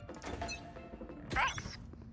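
A turret being deployed in the video game Valorant, a short mechanical thunk with a brief metallic whir, fairly quiet beneath the game's background sounds.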